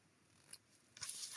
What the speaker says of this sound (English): I'm going to grab my ribbon scissors, and I'm going to just clean up these tails a bit so they're not quite so long.